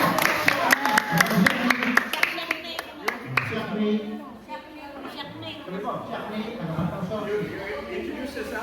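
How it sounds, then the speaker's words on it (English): A church congregation at a sermon claps a short round of applause, sharp individual claps ringing out over the first few seconds before giving way to talking voices. "Let's give him a round of applause."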